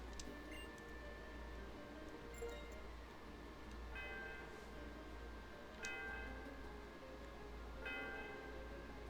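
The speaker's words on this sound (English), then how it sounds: "The sound of the bell reverberated through the area." Soft, repeated chimes of the Celestial Tower bell in the video game Pokémon White, ringing at regular intervals over a low background hum, faint and resonant.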